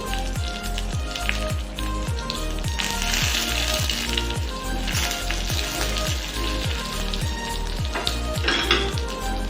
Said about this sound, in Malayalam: 1 ടീസ്പൂൺ വെളിച്ചെണ്ണ, കടുക് വറുക്കുന്നതിന് വേണ്ടിയിട്ടാണ്